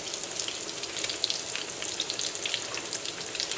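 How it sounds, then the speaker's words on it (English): Hungarian fasírt meatballs searing in hot oil in a pan on high heat, a dense, even crackling sizzle throughout with small pops, close and fairly loud, no voices. "I like to leave it on high at first because that way I searing the meatball or the Fasirt"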